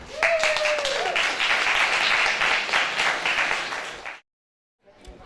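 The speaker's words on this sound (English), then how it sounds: "I want a round of applause for everybody that will be participating in the fight" Applause at a boxing press conference and weigh-in, with a dense crowd clapping loudly for about four seconds before it cuts off sharply, followed by a brief quieter burst.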